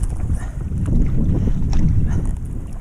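A Nelo 520 racing kayak paddled at a fast stroke rate across open water, with rhythmic splashing and hull swish under heavy wind buffeting on the microphone.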